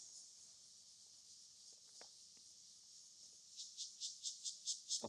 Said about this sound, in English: the sounds that are all around us are cicadas